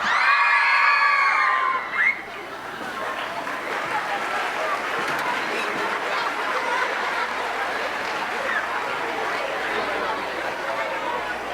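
Grade 5 and 6 band students at a school holiday concert burst into loud, high screams and cheers, then the noise settles into a sustained crowd of chatter and shouting.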